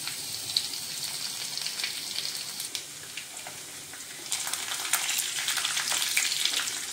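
Cumin seeds, curry leaves and finely chopped garlic sizzling in hot oil in a pan for tomato saar, a steady close frying crackle that swells louder toward the end, with no talk.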